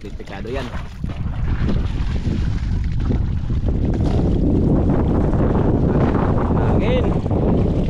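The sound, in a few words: strong wind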